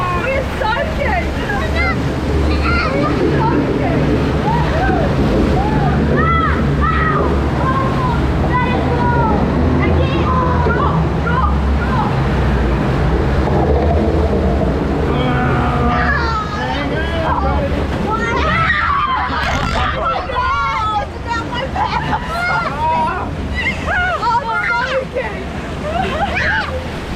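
Rushing water and splashing on the Grizzly River Run rapids raft ride at Disneyland, a loud continuous roar of churning water and wind with excited riders shouting and talking throughout.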